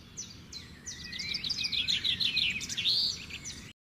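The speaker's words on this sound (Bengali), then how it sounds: "পাখির ডাক, এই নীরবতাই গ্রামের শীতের সকালের সৌন্দর্য" Small birds chirp and twitter in quick, overlapping bursts on a winter morning in a village, growing busier toward the end over a low, quiet background.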